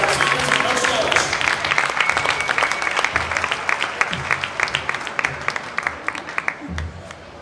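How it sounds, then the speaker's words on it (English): Sustained audience applause fills a wrestling meet gym for the seniors and their coach, steady dense clapping throughout with a few louder individual claps near the end. "One more good round of applause for our seniors and Coach Delich."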